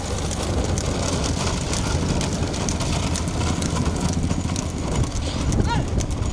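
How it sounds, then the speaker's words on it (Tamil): Bullocks pull carts in a race at Rethinakottai, Pudukkottai, their hooves clattering in fast, scattered clip-clops under a constant loud crowd roar, with an engine humming and voices calling over a loudspeaker. "மாடெல்லாம் உண்ணா வருது கவனமா வாங்க"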